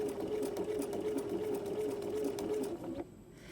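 A sewing machine stitches fabric for a Halloween garland, running in a fast, even mechanical whir close by for about three seconds before stopping abruptly.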